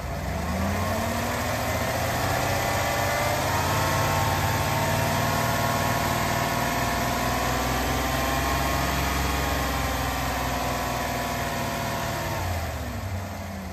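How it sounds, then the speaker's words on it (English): A car engine idles steadily and close by, its hum holding stable with slight gradual shifts in pitch as the RPM is raised and lowered, with no talking over it. "even when changing the engine RPM"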